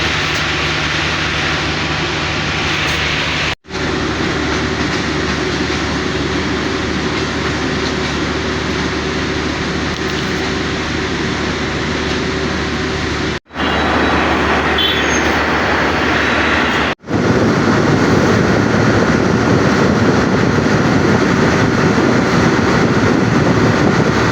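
A passenger train bound for Dinajpur rumbles loudly along the rails from inside the carriage, a continuous heavy clatter and roar with brief cuts and some wheel squeal.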